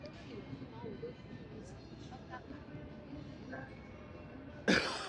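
A cough and throat clearing made close to the mic by a man out on the Las Vegas Strip, a loud burst near the end of a stretch of background murmur.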